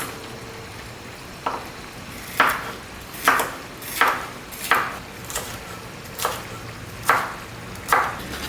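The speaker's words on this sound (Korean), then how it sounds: "파프리카도 잘라서 반씩 덜어 놓을게요" Knife chopping paprika (bell pepper) on a cutting board, about nine separate crisp cuts spaced roughly a second apart, close and clear, with a soft background hum.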